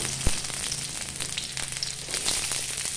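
Chopped onions and green chilies fry in oil with a steady, close crackling sizzle, punctuated by a sharp knock near the start and occasional light stirring scrapes, with no voices.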